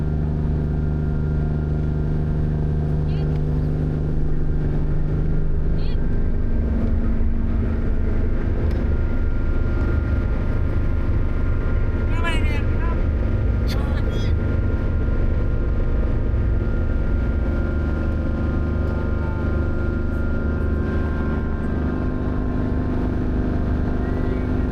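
A RoRo ferry docking at port in Puerto Galera, with a steady, loud low engine rumble and drone running throughout, plus faint intermittent clanks and squeaks in the background.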